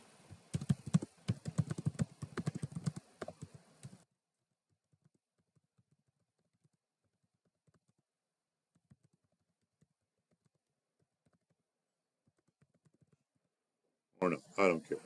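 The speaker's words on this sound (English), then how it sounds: "You don't like my typing?" Typing on a computer keyboard comes in a busy burst of rapid clicks and taps during the first four seconds, then near silence, with a voice coming back at the end.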